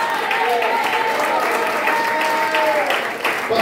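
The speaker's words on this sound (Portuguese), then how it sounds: "que ele tem uma salva de palmas a Jesus" A church congregation applauds, a sustained mass of clapping with a voice singing or calling out over it, fading slightly near the end.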